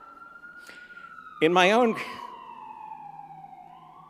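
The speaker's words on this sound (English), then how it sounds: "Say a little prayer for whoever is going in that ambulance." An ambulance siren passes outside a church during a sermon, a steady wailing tone that runs through the whole stretch while someone speaks briefly over it.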